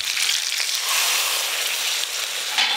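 A paste of ground mustard, poppy seed and cashew sizzles loudly in hot oil with cooked-down tomato, a dense steady frying hiss throughout with a brief burst near the end and no talk.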